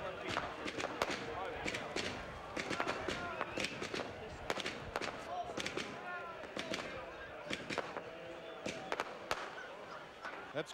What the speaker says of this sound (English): And the celebration and the fireworks begin.